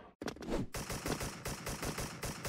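Rapid automatic rifle fire in the online shooter Special Force, with a brief gap and then a dense, loud, continuous burst of shots throughout.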